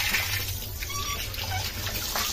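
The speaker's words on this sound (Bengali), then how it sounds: "এবার মাছটাকে ধুয়ে নিচ্ছি" A large cleaned rohu fish is rinsed under running water, a steady close gush and splash of water throughout.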